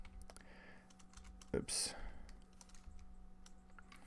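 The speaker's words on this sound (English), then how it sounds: "you're also going to get to see that I'm not that great at typing" Computer keyboard typing at a steady, uneven patter of soft key clicks for several seconds, with a brief spoken word and a louder clatter partway through over a faint background hum.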